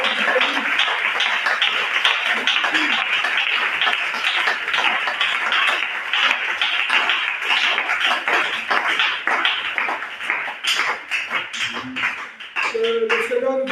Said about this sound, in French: Nous acclamons pour la parole.